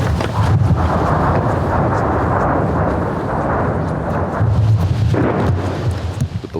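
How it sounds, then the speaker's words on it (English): Heavy, continuous rumbling blasts of artillery shells and rockets on a Donbas front line in Ukraine, dense low booms rolling together with wind buffeting the microphone and no clear gaps between impacts. "The volleys of shells and rockets crash back and forth."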